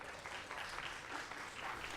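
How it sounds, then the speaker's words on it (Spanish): Audience applause for María Acaso as she takes the stage for her talk on education, a steady, even wash of many hands clapping at moderate distance, continuous for the whole stretch without voices. "Un aplauso para ella con su exposición Esto no es una clase."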